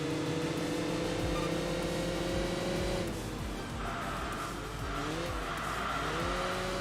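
Two Mercedes race cars duel on Japanese back roads in the racing game Enthusia Professional Racing, engines droning steadily with shifting pitch and brief tire squeals through the turns.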